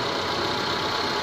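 A Proton Waja with a Mitsubishi engine and a faulty throttle position sensor idles close by, giving a steady, dense mechanical hum for a short moment with no voices.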